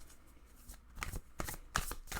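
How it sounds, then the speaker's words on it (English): A tarot card deck is riffled and shuffled by hand in several quick, crisp bursts close by, with no speech. "I'll give it one more shuffle."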